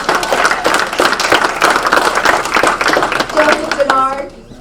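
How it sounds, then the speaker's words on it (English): Audience applause at a Rotary installation of officers ceremony honoring perfect attendance, steady dense clapping throughout with a voice talking over it, fading out at the end. "You need to give a clap on perfect attendance."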